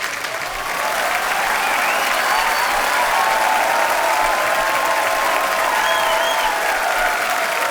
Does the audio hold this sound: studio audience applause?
yes